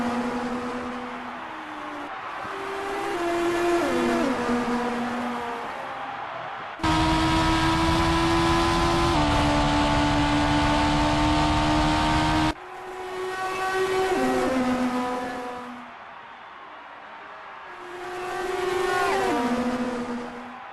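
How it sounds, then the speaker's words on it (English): Onboard engine of a Red Bull Formula 1 car racing at the Spanish Grand Prix, a loud continuous high-pitched whine that climbs and drops through gear changes, with a steady flat-out stretch in the middle and no talk. "On board now Gaviria in the Red Bull, who is 5 seconds behind Magic Alonso."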